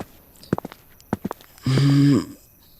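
Footsteps approach a room as a story sound effect, with a few sharp knocking steps followed by a brief tonal scrape or creak, heard alone without talk.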